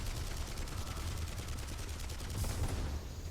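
Rapid turret gunfire in Marlow Briggs and the Mask of Death, a steady stream of fast rhythmic shots running throughout at moderate loudness, with no talk.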